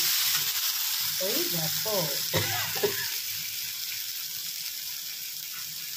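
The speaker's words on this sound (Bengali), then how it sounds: "মশলা কষানো চলছে ডিমের জন্য" Spices for egg curry, with onion, ginger, garlic, green chilli and tomato paste, frying in a pan: a steady broadband sizzle with scraping stirs in the middle, under a brief spoken remark.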